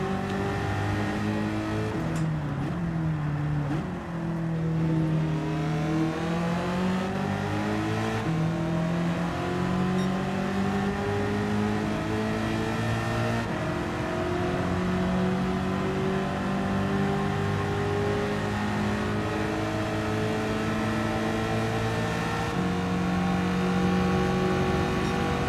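A race car engine in the Gran Turismo 7 video game drones loudly and without a break, its pitch climbing and falling as the car speeds up and slows through corners. No one speaks.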